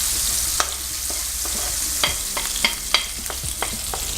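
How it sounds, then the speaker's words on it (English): Sun-dried tomatoes stirred in a hot pan, giving a soft steady sizzle with scattered scraping clicks and taps from the stirring, fairly close and without voices. "just a slight sizzle. Just cook those tomatoes a little bit"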